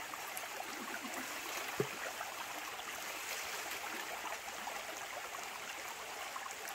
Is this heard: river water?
yes